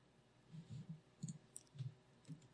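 Faint keyboard typing during a podcast recording: a few scattered, soft key clicks in uneven bursts over a quiet background, with no talking.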